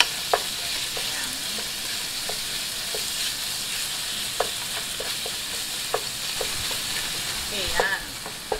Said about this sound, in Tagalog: Para ating igigisa yung ating giniling.